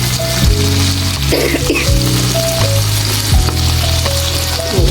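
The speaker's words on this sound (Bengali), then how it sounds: "ভালো করে ভেন্ডিগুলো ভেজে নিব খেয়াল রাখতে হবে পোড়া যাতে না লাগে" Okra sizzles loudly in hot oil, a dense continuous crackle of frying with intermittent stirring clatter and scraping, close and steady throughout.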